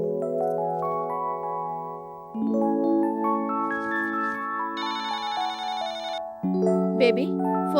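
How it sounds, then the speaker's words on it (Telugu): A telephone rings indoors with a melodic electronic ringtone that plays stepped tones in a steady repeating pattern, loud and close, with no voices. "బేబీ ఫోన్లో ఎవరో చూడు."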